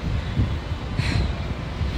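Strong wind in New Orleans roars and buffets the microphone in a constant low rumble, with a brief hiss partway through and no speech.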